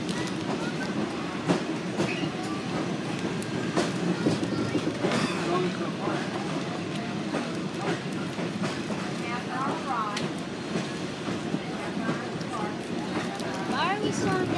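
Riding an open-air car on the Wilmington Western Railroad, the train rumbles and clacks continuously with wheel and track noise, wind buffeting the microphone, and faint scattered sounds above the steady din.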